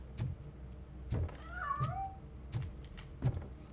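Cat meowing in the video game RoboCop: Rogue City, a clear drawn-out meow in the middle with several short thumps and clatters before and after it, fairly close and with no talking.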